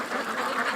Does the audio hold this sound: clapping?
no